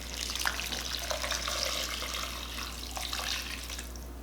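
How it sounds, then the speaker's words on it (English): Beef bouillon water poured from a container onto meat in a pot for birria, a steady close splashing trickle with a few drips and a low background hum, no voices. "I'm gonna go ahead and just pour this on top here."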